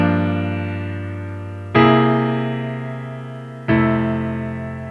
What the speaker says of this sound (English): But the same 2-5-1 progression sounds like this.